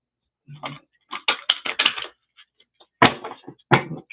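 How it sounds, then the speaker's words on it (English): Tarot cards are shuffled and riffled close up in several quick crackling bursts, separated by short pauses. "let's give it one more shuffle"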